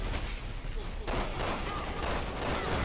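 Dense gunfire and rumbling combat noise from a Resident Evil 6 battle with a sniper firing, loud and unbroken, with voices mixed into the din.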